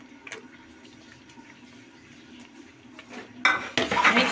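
A spoon stirring almonds and dry fruits into gajar kheer in a pot, soft scraping and a few metallic clinks that grow into louder, busier scraping toward the end.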